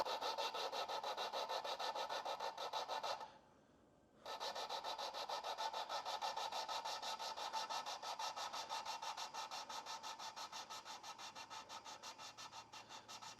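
Engine valves being lapped with coarse grinding compound make a continuous gritty, rhythmic rubbing, close and steady, with a brief pause partway through before the back-and-forth scraping resumes.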